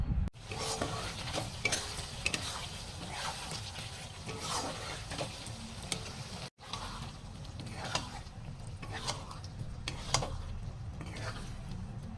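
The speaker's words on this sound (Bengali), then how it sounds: "মশলাটাকে কষিয়ে নিয়ে তার উপরে লোটে মাছটা দিয়ে ভালো করে একটু নেড়ে নিয়ে" Bombay duck fish is stirred through a spice masala in a pan, with a continuous scraping and stirring sound over a low sizzle. The motion is rhythmic and close, with a brief pause midway.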